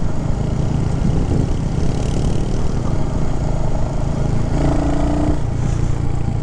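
A Royal Enfield Hunter 350 single-cylinder motorcycle engine runs with a steady, loud mechanical drone close to the listener, with a continuous throb throughout and no gaps.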